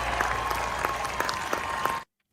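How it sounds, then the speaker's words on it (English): A crowd's round of applause plays on a gaming podcast, dense steady clapping with a few sharper individual claps, then cuts off abruptly into silence. "a round of applause for all the social interaction out here"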